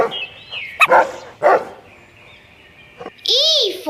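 A cartoon-style dog in a children's alphabet phonics song gives several loud, close barks and a short yip, mixed with brief children's-song sound effects and a rising whistle-like tone.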